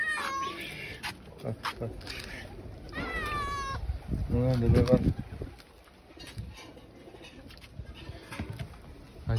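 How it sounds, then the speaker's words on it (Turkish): Hungry stray cats meow repeatedly, mixed with cooing birds close by, as someone talks and calls out over them at intervals. "Aç olan kediler ve kuşlar."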